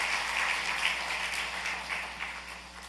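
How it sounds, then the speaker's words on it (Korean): A church congregation claps in welcome during a sermon service, producing a soft, continuous patter of applause that swells slightly and stays fairly distant over a low hum. "박수로 환영하겠습니다."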